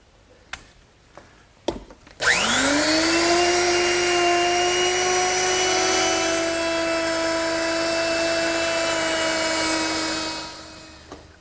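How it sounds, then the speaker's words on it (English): After a few clicks and taps, a router fitted with a 1/2 inch round-over bit whines up to a loud steady spin while shaping the armrest of a wooden garden bench, then winds down near the end. "to round that over, I'll simply use my router, which is set up with a 1/2 inch rounding over bit"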